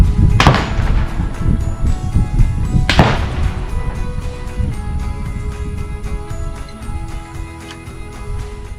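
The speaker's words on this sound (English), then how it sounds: "let's do some shooting" A CZ 720 G3 shotgun fires at sporting clays: two loud, close blasts about two and a half seconds apart, each ringing out over steady outdoor background noise.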